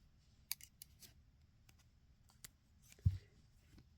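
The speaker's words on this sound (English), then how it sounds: "I'm just going to cut my yarn" Scissors snip through crochet yarn in a few quick cuts. The sharp clicks are close but fairly quiet, over a soft background with no talking.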